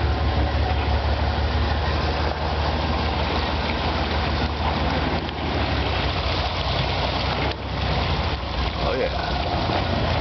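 A Jeep driving through deep water, its engine giving a loud, steady low rumble with constant churning noise throughout, while someone speaks briefly over it.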